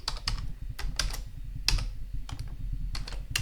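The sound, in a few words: typing code on a computer keyboard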